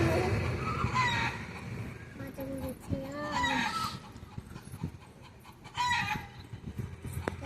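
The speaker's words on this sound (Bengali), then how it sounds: "মুরগি আছে" Chickens cluck in short bursts around a rural household, fairly close, with voices of people talking mixed in and ongoing background activity.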